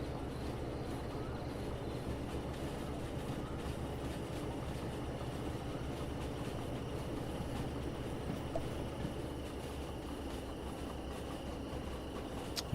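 A freight train rolls on rails in the game Derail Valley, giving a steady low rumble with faint rhythmic clatter that carries on evenly from start to end, with no voices.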